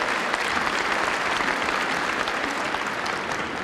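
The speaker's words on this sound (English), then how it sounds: "let's give them a round of applause" A large audience at a university spring convocation claps steadily, a dense, even wash of applause held at full strength for several seconds with no voices standing out.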